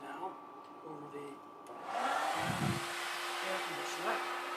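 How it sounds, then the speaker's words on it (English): A workshop vacuum switches on partway through, rising into a steady, loud whooshing whine that continues to the end, with faint room sounds before it starts. "I'm going to turn on the vacuum, so things are going to get a little bit noisy"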